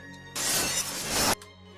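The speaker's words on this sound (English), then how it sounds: "I simply just add the clip of me actually looking over that place, which is really cool, and then I just simply copy and pasted the glass breaking and glass breaking sound effect and reversed them both." Reversed glass breaking: a sharp, loud swell of bright shattering noise that builds for about a second and then cuts off abruptly, heard alone.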